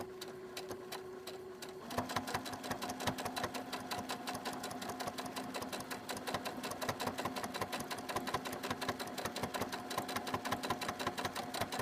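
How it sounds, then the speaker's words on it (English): A sewing machine stitches a rag quilt block along a marked diagonal line, starting with a soft whir and then settling into a long, steady, rapid needle rhythm, close and continuous. "you just stitch in the line that the Hera pen made"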